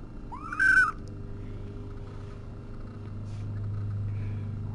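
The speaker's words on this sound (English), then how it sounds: "And you, Miss Squawky Pants, you're very squawky." A single short, shrill kitten squawk rings out near the start during a weighing, then only a steady low engine-like hum continues underneath.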